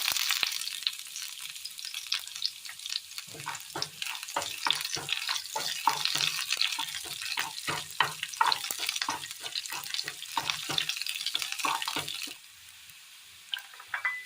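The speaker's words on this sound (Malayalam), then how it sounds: "അല്പം എണ്ണ ഒഴിച്ചു കൊടുക്കാം. ഒരു സ്പൂൺ ഉഴുന്ന്, ഒരു ചെറിയുള്ളി അരിഞ്ഞത്," Urad dal and chopped shallot frying in oil for a mango curry, a close crackling sizzle with rapid popping bursts and stirring, quieting near the end.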